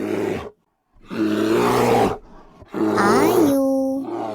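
Cartoon bear for a kids' animal-voice quiz gives a deep, growling roar, breaks off into a short silence, then roars again in two long raspy bursts ending in a strained, wailing tone.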